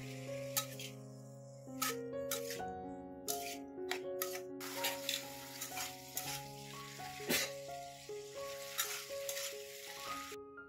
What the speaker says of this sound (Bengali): এবার দেব কাঁচা লঙ্কা, স্বাদ মতো লবণ ও হলুদ দিয়ে নেড়ে চেড়ে